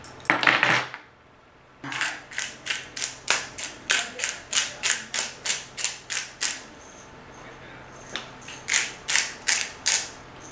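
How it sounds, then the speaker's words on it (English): A hand pepper mill grinds black pepper in repeated quick ratcheting bursts, close and crisp, in a steady rhythm with a brief pause near the end. "Fresh ground black pepper always always tastes better."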